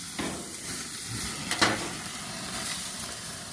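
A one-pound burger patty sizzles steadily on a grill just after being flipped, a continuous close hiss and crackle with a couple of brief louder pops midway.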